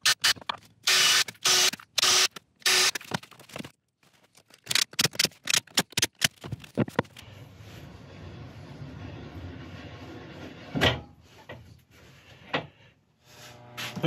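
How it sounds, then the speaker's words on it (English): Heavy brownheart wood blank getting a faceplate screwed on: loud, bursty clicks and clatters early on, then a quieter rasping stretch with a few sharp knocks near the end, close and without speech. "So we're going to screw in a faceplate."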